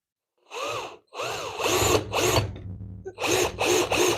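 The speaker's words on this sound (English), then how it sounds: "I'm just doing a little countersinking it a little bit so that my screw head has somewhere to" A power drill countersinking screw holes in a wooden sign whines in several short bursts, spinning up and cutting into the wood with brief pauses between, loud and close with no talk.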